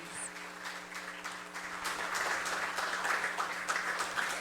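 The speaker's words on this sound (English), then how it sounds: "Another round of applause for Dr. Roy Cayetano, please." A forum crowd marking Indigenous People's Resistance Day gives another round of applause for Dr. Roy Cayetano; clapping starts sparse and builds into a fuller, sustained patter of many hands, moderately distant, over a faint steady hum.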